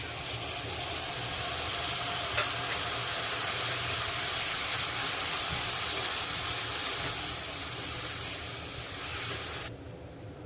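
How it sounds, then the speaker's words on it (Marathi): Prawns sizzle in a hot pan with turmeric and asafoetida, a loud, steady hiss that runs unbroken for about ten seconds, then drops off sharply near the end. No one speaks. "आता आपण त्यामध्ये निवडलेली कोळंबी घालूया"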